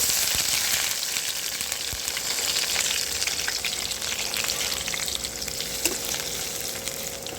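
Chopped onion sizzles in white oil with whole garam masala in a pan for a meat curry, a loud, steady frying crackle with a few clinks, and no talking.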